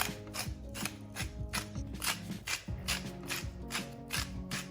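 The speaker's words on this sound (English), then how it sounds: "crush some salt and pepper" A hand grinder crushes salt and pepper over seasoned sausage and vegetables for an air fryer meal, giving a steady run of close ratcheting, grinding clicks in repeated twisting bursts, with no talk.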